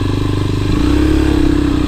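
A Japanese Suzuki DR 250 enduro motorcycle rides over rocks on a Carpathian mountain trail, its single-cylinder engine loud and close with a rapid steady thump that rises slightly in pitch as it pulls.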